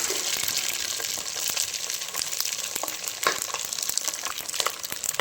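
Mustard seeds and spices fry in hot oil for Gujarati dal dhokli, giving a loud, crackling sizzle with dense popping and spattering throughout, close and steady.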